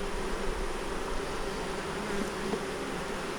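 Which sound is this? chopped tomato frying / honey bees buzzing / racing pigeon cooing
honey bees buzzing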